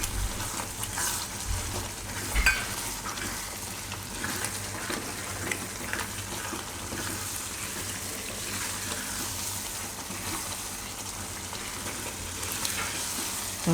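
Cream stirred into thick gravy simmering in a pan for a Gujarati cashew and banana curry, a steady close sizzle with soft spoon scrapes and stirring throughout, no speech.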